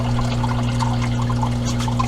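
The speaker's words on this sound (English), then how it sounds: "the noise that you're basically hearing is the water going through the siphon and the Sicce pump" Aquarium water runs through a siphon and a Sicce pump in a steady, close trickling rush over a constant low motor hum, with no voices.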